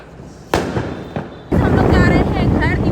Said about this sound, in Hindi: अभी ये लोग कुछ पटाखे छुड़ा रहे हैं